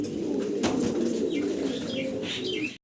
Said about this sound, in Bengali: টপ কোয়ালিটির এক জোড়া ড্যানিশ কবুতর